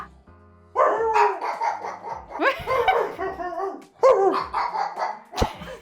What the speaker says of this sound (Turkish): Geriye geriye havlıyor.